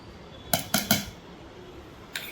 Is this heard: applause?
no